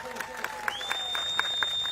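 A crowd at a farmers' mahapanchayat rally in Anklav, Gujarat claps in quick, even applause throughout, with a steady tone ringing over it.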